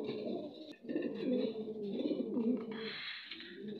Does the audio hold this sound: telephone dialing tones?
no